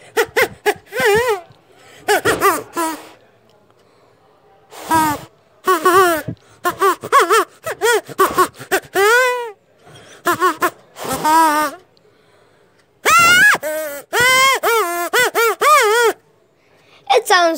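Homemade kazoo built from popsicle sticks with a rubber band inside, blown in a series of buzzy, wavering honks and squawks with short pauses, loud and close.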